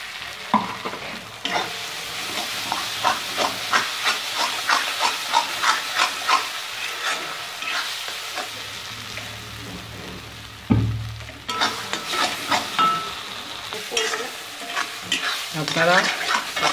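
Ground pointed gourd paste, added to cinnamon, cardamom and cumin paste, sizzles in a pan while a spoon stirs it in steady, repeated scrapes. There is a brief loud clunk midway, then the frying hiss and stirring carry on.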